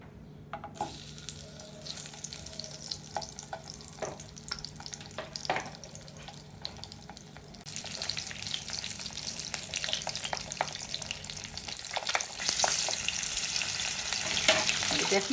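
Fish heads coated in salt and turmeric hit hot mustard oil in a wok and sizzle steadily. The frying grows louder and more intense toward the end, with occasional stirring clinks and no talk.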